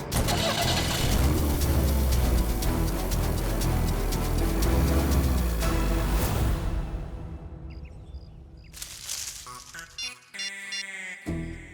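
A car engine starts and the vehicle drives off, a loud rumbling engine close by for several seconds that fades away, leaving quieter background noises and faint bird calls.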